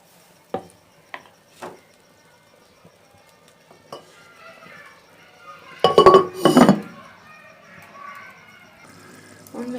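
A metal plate is set down as a lid over a cooking pot of tori aloo on the stove, giving a loud clattering clink with scattered lighter taps of utensils around it.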